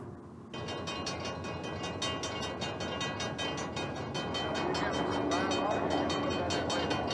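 A train passing, a loud sustained rumble of rolling wheels and cars that swells after a brief quieter start, with regular clattering pulses and talking mixed in.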